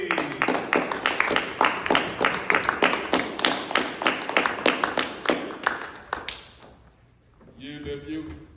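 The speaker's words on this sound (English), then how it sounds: "Everybody give a hand clap for Ian Hayes." Audience hand clapping at a school ceremony honoring young men, a steady burst of rhythmic, fairly loud claps lasting about six seconds before fading, followed by a brief voice.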